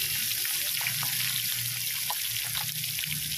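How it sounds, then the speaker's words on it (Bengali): Koi (climbing perch) coated in salt and turmeric frying in hot oil, a steady close sizzle with faint crackles and pops throughout, no voices. "হালকা করে কই মাছগুলো ভেজে নেবো"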